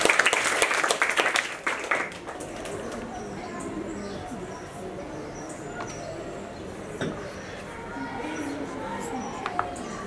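Students clap in a classroom, a burst of scattered applause at the start that fades within a couple of seconds, followed by quieter room noise and occasional talking.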